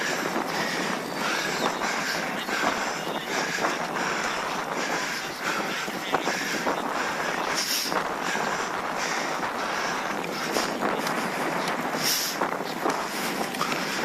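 Strong headwind buffeting the microphone of an e-bike rider climbing a 4% incline in the Peak District, a constant loud rushing roar with occasional gusty peaks and no talking.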